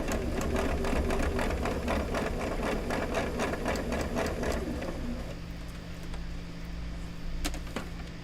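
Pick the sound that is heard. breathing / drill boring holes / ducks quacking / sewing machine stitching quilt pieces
sewing machine stitching quilt pieces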